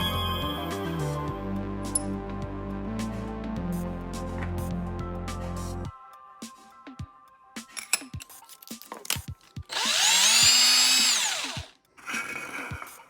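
A power drill with a freshly sharpened bit runs with a steady whine for several seconds, then stops. Scattered clinks of metal follow, and a short high-pitched burst of drilling comes near the end.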